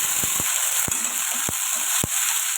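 Salted hilsa fish and mixed vegetables sizzle steadily in a pan, with a few sharp scraping knocks from stirring spaced through the clip, close and fairly loud, no talk.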